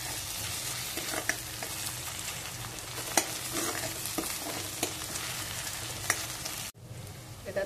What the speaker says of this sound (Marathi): कांदे छान लाल झाले, त्याच्यात आपण आता अद्रक लसूण आणि याच्यात मिरची ठेचून घेतलेली आहे.